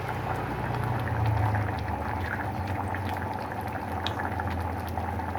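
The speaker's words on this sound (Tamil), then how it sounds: "இந்த இவ்வளோ தண்ணி தான் ஊற்றணும் புளி தண்ணி" Tamarind water poured into a pot of brinjal and mutton-bone curry, a steady bubbling, liquid wash that runs evenly throughout at close range with no talking.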